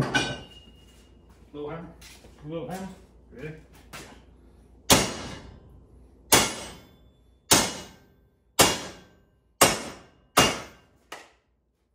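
A hammer flattens a bent metal brace on a vehicle door bar: seven sharp, ringing blows at an even pace follow a stretch of conversation.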